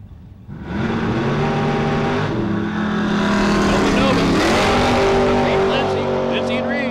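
NHRA drag race cars launching at Portland International Raceway, engines rising from a low idle into a loud sustained roar with climbing pitch, an announcer talking over the racket.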